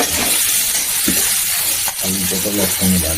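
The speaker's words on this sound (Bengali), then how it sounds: "লবণ আর হলুদ মাখিয়ে একটু ভেজে নেবো" Boiled potatoes coated in salt and turmeric fry in a hot pan, a steady sizzle broken by scraping stir strokes and a few clinks of the spatula, close and loud with no talking.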